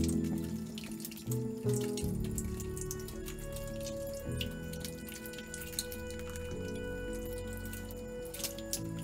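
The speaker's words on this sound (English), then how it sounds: "Use tap water to remove any small shell fragments." Tap water runs steadily into a sink while boiled quail eggs are peeled and rinsed of small shell fragments, a continuous close splashing stream with occasional drips and light handling clatter, no talking.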